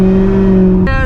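A loud, steady engine drone from a 1,000-horsepower Corvette ZR1 merging onto a highway, with the pitch jumping abruptly as it revs near the end.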